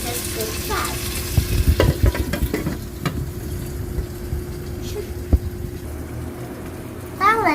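Onions and tomatoes for chicken biryani being stirred in a pan: scraping, clattering utensil strokes and a steady sizzle, loud and close, with a brief vocal sound near the end.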